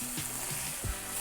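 Meat and broth sizzle in a pan over high heat for bulgogi, a steady close hiss with a couple of brief stirring scrapes, no voices.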